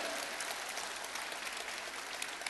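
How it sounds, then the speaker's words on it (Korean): A crowd at a Korean presidential candidate's book launch event in Cheongju applauds the candidate's wife with steady, dense clapping that continues throughout, somewhat distant and moderately loud. "사모님 큰 박수로 인사 올리겠습니다"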